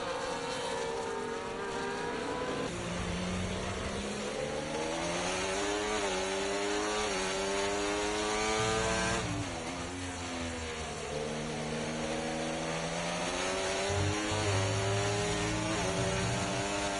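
F1 video game race cars lap the Qatar circuit, their high engines whining and sweeping up and down in pitch through gear changes, fairly faint and continuous without any talk.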